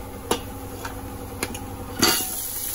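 A utensil stirs biryani masala in hot oil in a pan, giving four sharp metallic taps and clinks at uneven intervals over a quiet background.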